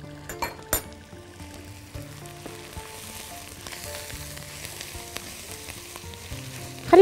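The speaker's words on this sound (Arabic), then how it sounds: "خليني بس عايزه نحمر شويه بس كده البصل قبل ما نحط عليه المشروم" Onions browning in a pan before mushrooms are added, a steady soft sizzle under scattered utensil clinks and a faint tonal hum, with a few sharper knocks early on.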